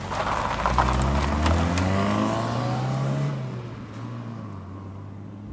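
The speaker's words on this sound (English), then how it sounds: "today you find me well and truly out of my depth, for I am driving a 1991 Toyota Carina 2" A 1991 Toyota Carina II 1.6 engine drones steadily from inside the cabin, its pitch rising and falling as the car accelerates and shifts, loud and continuous throughout.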